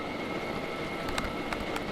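A jet engine built in the sandbox game Scrap Mechanic runs with a steady broadband roar and a faint high whine, with a few sharp clanks near the end.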